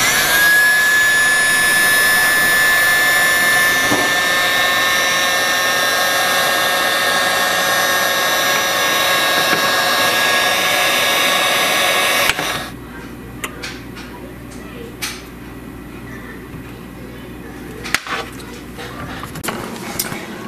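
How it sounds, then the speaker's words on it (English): A steady, loud blowing whir of a heat gun shrinking heat-shrink tubing on wiring runs for about twelve seconds, then cuts off, leaving quieter room sounds with a few small clicks. "Now I just shrink this with a heat gun."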